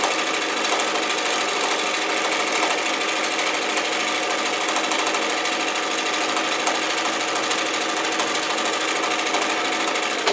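A sewing machine stitching a stuffed fabric cat kicker runs in a rapid, continuous mechanical chatter throughout, close and steady with no pauses or voices.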